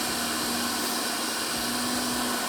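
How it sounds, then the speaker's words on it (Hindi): A blender whirs at a high, steady speed, mixing plain milk and cream in a continuous close-up drone. "सो मैं इसको करता ये हूँ कि इसको खाली ब्लेंड कर लेता हूँ, सिंपल दूध और क्रीम बस।"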